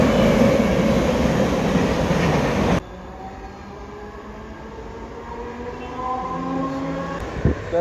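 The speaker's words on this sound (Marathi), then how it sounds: "आता आपली पण ट्रेन येईल" A train rumbles loudly at a station, then after an abrupt drop a quieter mechanical hum with rising tonal whines continues, like a train drawing in, with a brief knock near the end.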